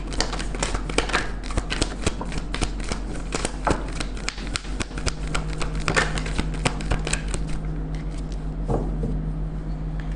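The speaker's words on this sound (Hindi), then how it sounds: "एक ही शफल करेंगे हमेशा की तरह, जिन कार्ड्स को आना है वो आ जाएंगे" A deck of tarot cards being shuffled by hand, with a continuous, close rapid flutter of card riffles and slaps over a low steady hum, fairly even in loudness.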